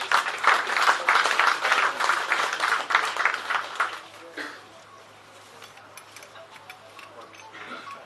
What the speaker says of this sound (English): If you can please just give him another round of applause.